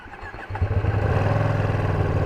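A Ducati Panigale V2 sport motorcycle engine running in sport mode, catching and settling into a loud, steady throbbing drone heard close for a couple of seconds with no voices.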